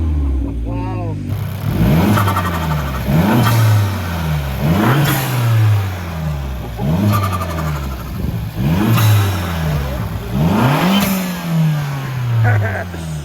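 A used car's engine revs hard about six times in a steady rhythm, each roar dropping back toward idle, loud and close.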